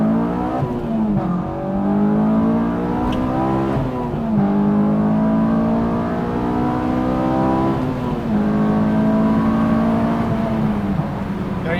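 Inside a Honda S2000 fitted with an Invidia Q300 exhaust, the engine rises through the gears with steady revving tones, dropping at each shift and settling into a loud, droning cruise.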